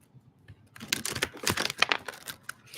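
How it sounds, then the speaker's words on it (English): Tarot cards are shuffled by hand close up, starting quietly and breaking into a quick run of crisp riffling snaps and flicks over the second half. "I want to shuffle again"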